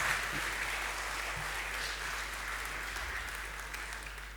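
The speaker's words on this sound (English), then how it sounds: "Keep clapping for me" A conference audience at a Unity developer event applauds a talk, a continuous crowd of clapping hands that stays strong and slowly tapers toward the end.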